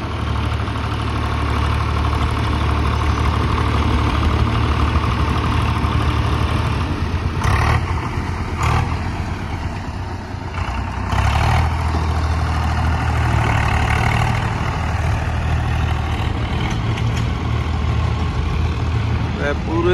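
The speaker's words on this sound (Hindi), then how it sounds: "इतने सारे ट्रैक्टर का पूरा ऐन जोर लगा के देखा जाता वा।" Several tractors run their engines at full power during a tractor scanning test, a loud, continuous heavy diesel drone with a brief dip midway, while someone talks over it.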